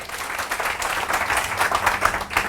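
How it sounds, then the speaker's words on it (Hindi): Loud, sustained applause from a large audience at a motivational training seminar in Mumbai, dense clapping throughout with crowd noise. "एक जोरदार ताली आपने लिए हो जाए।"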